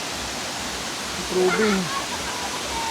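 Flowing water of a resort waterfall fed by natural spring water, a steady broadband rush that runs the whole time, with a brief voice speaking over it midway.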